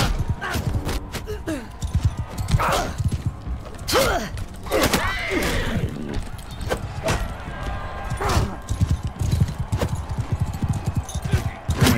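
Horse hooves gallop, clip-clopping rhythmically on hard ground in the video game Bannerlord, loud and close, with creaks and clatter mixed in.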